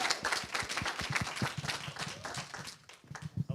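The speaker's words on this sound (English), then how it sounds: "let's just give a round of applause to Pastor Butler for putting this panel" Clapping in a community church for a pastor who organized a panel, a modest scattering of claps with some voices or movement mixed in, uneven and tapering before a few louder claps at the end.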